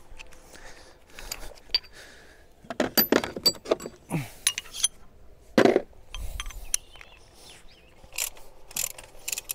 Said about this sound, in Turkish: 16 lokma buji sökmemizi alıyoruz